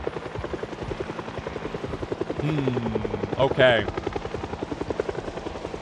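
Helicopter flying in the video game Project Zomboid, a steady rotor drone heard under near continuous talk, with a louder tonal swell in the middle as it seems to pass close.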